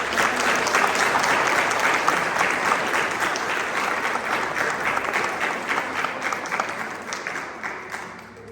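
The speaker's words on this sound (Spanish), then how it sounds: "pido un fuerte aplauso para él" Sustained audience applause fills a book presentation hall at UNAM, a dense steady wash of many hands clapping that holds loud for over eight seconds before easing slightly at the end.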